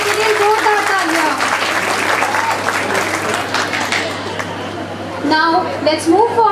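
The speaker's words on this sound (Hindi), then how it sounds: "इस शानदार प्रस्तुति के लिए जोरदार तालियां।" Loud audience applause follows a school performance at a 15 August Independence Day event, steady clapping from a crowd with a voice speaking over it.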